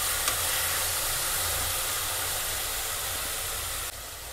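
Mint and coriander frying in a pan for a green chicken gravy give off a steady, loud sizzling hiss that runs unbroken and dips slightly near the end. No talking.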